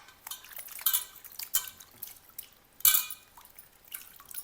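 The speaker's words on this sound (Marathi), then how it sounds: "दोडक्याला पाण्यामध्ये स्वच्छ धुवून घ्यायचे" Ridge gourd pieces washed in water in a kitchen bowl, giving soft splashes, drips and light clinks of vessels in a few separate bursts, close and fairly quiet, with no talking.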